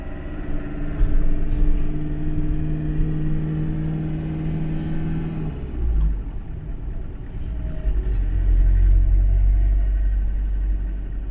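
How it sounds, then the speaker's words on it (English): Town centre traffic in a square, with cars passing close by, low engine rumble and an occasional rev rising and fading in a steady, continuous wash of road noise. "All I'm getting at the moment is traffic"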